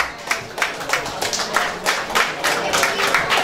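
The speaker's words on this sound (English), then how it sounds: "Give a round of applause" Dense, steady applause from a crowd at an interclub Muay Thai event welcoming a fighter, continuous crackling claps filling the space throughout.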